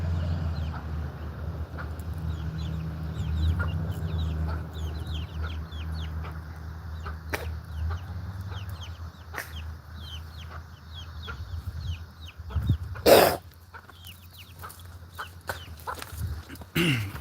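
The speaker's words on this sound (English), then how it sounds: "What's up, little chickens?" Chickens cluck on a farm, with soft scattered clucks and calls over a low steady hum of outdoor background noise, near to moderately distant, with one sharp brief knock partway through.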